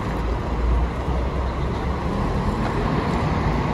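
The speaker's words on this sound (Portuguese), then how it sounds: "Marco Polo Paradiso New G7 1350 sobre o chassi Mercedes-Benz O500 RSD Blue Taxi." Marcopolo Paradiso New G7 1350 coach on a Mercedes-Benz O500 RSD chassis at a Porto Alegre bus station, a steady low diesel rumble amid constant traffic noise.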